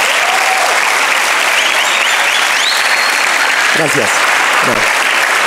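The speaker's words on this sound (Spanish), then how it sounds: "un aplauso para ellos, muchas gracias" Group of players at a basketball coaching clinic applauding, steady dense clapping throughout while someone speaks briefly over it near the end.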